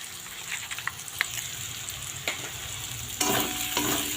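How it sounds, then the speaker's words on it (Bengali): Broken wheat fried with mixed vegetables in oil, a spatula stirring and scraping through the pan over a continuous sizzle, growing louder and busier toward the end. "ডালিয়া দিয়ে আমি আরেকটু এটা ভেজে নেব।"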